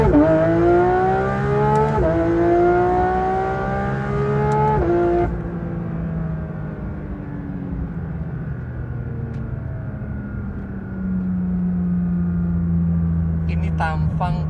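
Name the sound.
Porsche 911 GT3 RS accelerating and shifting gears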